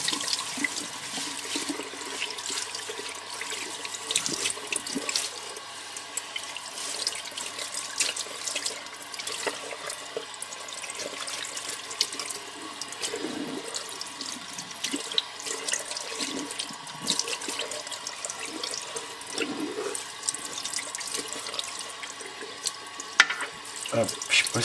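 Salted salmon rinsed under a running kitchen tap, the water gushing steadily into the sink with splashing fluctuations throughout, close and continuous.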